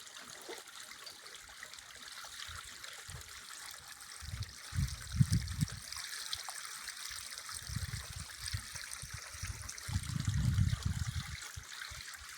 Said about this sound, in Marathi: पाणी समाधानकारक चाललेलं आहे